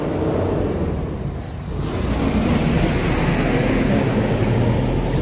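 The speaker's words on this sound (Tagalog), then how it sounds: "Grabe yung ingay ng bike ko ngayon mga kalabarkads." A loud motorcycle engine drones steadily at close range, a continuous rough rumble on a night outing with no voices over it.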